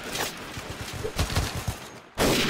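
Bursts of rapid gunfire crackle in Mount & Blade: Warband, a few volleys spread across the moment, ending with a loud sustained burst.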